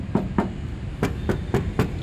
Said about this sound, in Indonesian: Kita ketok aja bodinya yuk.